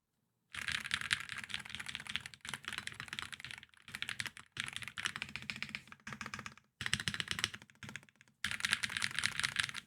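Quick typing on a Gravastar hall effect keyboard with its stock UFO switches, close and crisp, coming in bursts of rapid keystrokes split by brief pauses.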